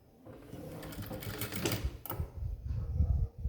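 A sewing machine runs steadily while stitching a semi-high-neck blouse, a busy, close mechanical whir and rattle lasting several seconds, with faint low voice sounds underneath.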